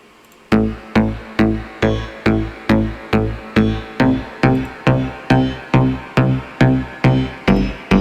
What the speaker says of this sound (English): And then we have the mid bass,